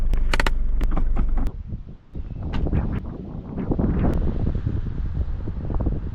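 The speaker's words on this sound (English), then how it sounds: "but it's so windy" Strong wind on a beach roars and buffets the microphone in steady, gusting waves, with a few sharp knocks near the start and no voices.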